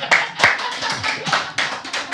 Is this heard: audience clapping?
yes